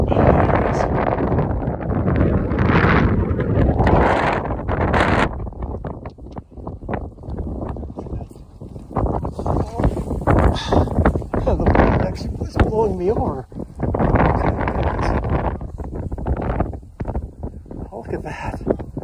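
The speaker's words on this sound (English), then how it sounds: "The wind is so strong, it's blowing me over." Strong gusting wind at a model rocket launch site batters the microphone in loud, uneven rumbling blasts that rise and fall, with some quieter stretches. Someone talks at times through the noise.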